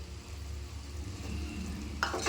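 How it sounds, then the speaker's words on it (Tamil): Mushroom masala and rice stirred together in a pan, a steady low scraping sizzle with a brighter burst of stirring near the end, no talk. "அரிசி உடையாத அளவுக்கு நம்ம இந்த மசாலா ரைஸ் எல்லாம் கலந்து விட்டுக்கலாம்"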